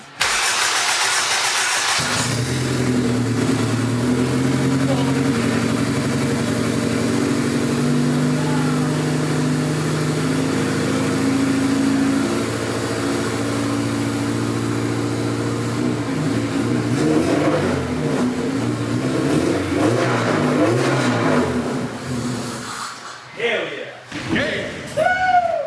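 A Honda K20A engine swapped into an Acura Integra cranks steadily with a loud, droning starter rhythm, then fires and catches, running roughly before settling; brief voices and shop noise follow near the end.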